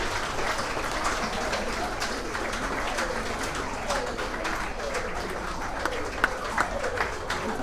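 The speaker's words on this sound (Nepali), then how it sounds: "अझै ताली बजाउँछौँ हामी।" Wedding guests clap steadily and densely throughout as the couple cuts the cake, a sustained room-filling applause with a few louder individual claps near the end.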